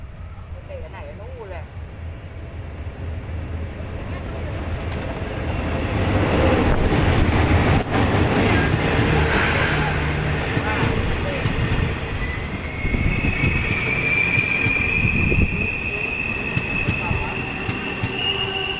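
Thaksinarath special express train 31 pulling into Ratchaburi station in Thailand, a loud rumbling approach with clattering wheels and a long high wheel squeal as it slows, people talking nearby.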